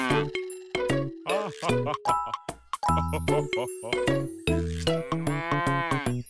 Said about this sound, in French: Fait la vache.